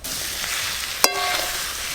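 Potatoes and pointed gourd fry with spices in a pan, giving a steady close sizzle broken once by a sharp metallic clank of a spatula or ladle.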